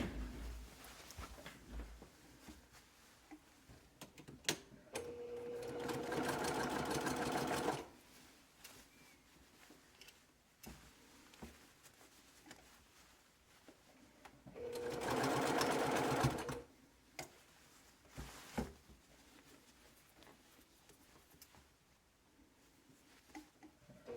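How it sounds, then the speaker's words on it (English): A sewing machine runs a 1/4 inch seam across the top edge of a Japanese knot bag handle in two short, fast bursts of stitching. Quiet handling noise fills the pauses between the bursts. "then you're just going to sew a 1/4 inch seam right across this top"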